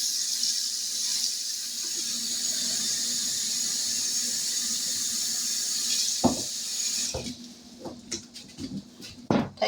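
A kitchen tap runs in a steady hissing stream for several seconds, then shuts off, leaving a few clinks and drips nearby.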